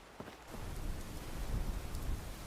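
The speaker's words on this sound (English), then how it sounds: "it's now absolutely raining and it's practically night time" Rain falls steadily in the Fallout 76 game world at nearly night, a dense even hiss with low rumbling underneath that swells slightly after the first half second, heard alone without speech.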